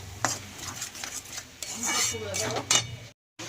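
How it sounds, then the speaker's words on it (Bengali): A spoon mixes salt and turmeric into peas in a metal vessel, with repeated clinks and scrapes against the pot, then an abrupt cutoff into silence. "স্বাদ মতন লবণ আর স্বাদ মতন হলুদ এগুলোকে আমি ভালো করে মিশিয়ে নেব"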